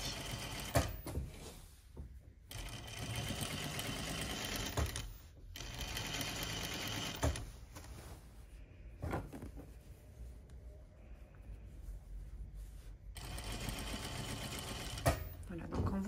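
A sewing machine stitches the waistband of a wrap skirt over elastic, running in steady bursts broken by short pauses while a voice talks over it.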